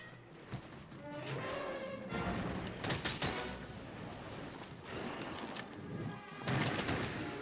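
Rapid gunfire bursts and mechanical reloading clatter from the video game Monster Hunter World on Xbox One X, a dense busy stretch of shots and thumps at moderate loudness.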